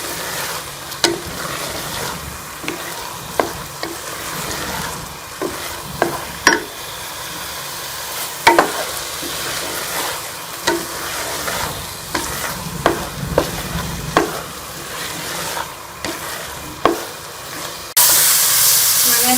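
Petha halwa being roasted in ghee in a pan and stirred, a steady sizzle and frying hiss with repeated clinks and scrapes of the spoon throughout, loud and close, with no voices.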